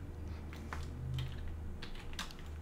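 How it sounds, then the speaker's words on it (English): Quick, irregular keystrokes on a computer keyboard clatter in a few short bursts over a steady low hum, close and moderately loud, with no voices. "maybe I can type it like this"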